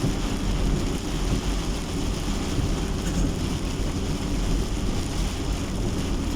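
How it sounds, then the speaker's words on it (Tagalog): Heavy rain pours steadily during a night drive through Dumalag, Capiz, with low thunder rumbling underneath throughout and occasional wind buffeting; no voices. "Lakas ng ulan."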